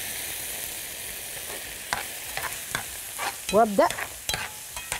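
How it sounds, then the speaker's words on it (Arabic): Onions stirred and frying in a pan for a potato tray bake: a steady close sizzle with scattered scraping and tapping of the spoon, and a brief spoken word partway through. "اقلب في البصل كله شوية، واخلي البصل تاخد لون شوية"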